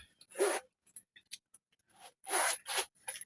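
The zip on a handbag's zip pocket opened and closed, several short rasping zipper strokes separated by small clicks and pauses, close up with no speech.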